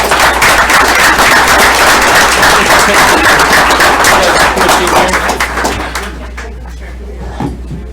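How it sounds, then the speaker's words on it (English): An audience at a school board of education meeting applauds the Cedar Hill team, with dense sustained clapping that thins out and fades over the last couple of seconds, and no talk over it. "do we have a round of applause for the Cedar Hill team?"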